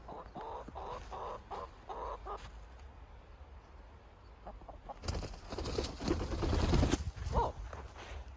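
Chickens clucking outdoors after a huge snow storm, soft clucks near the start, then a louder burst of clucking and flapping later, with occasional quiet voices.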